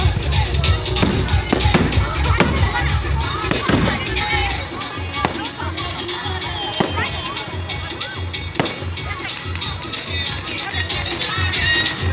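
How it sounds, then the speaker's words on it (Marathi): Repeated booming fireworks bursts with crackling, spaced irregularly over a steady murmur of a large crowd. "त्याच्यानंतर इथे फटाकडे सॉरी फटाके उडवले जातात"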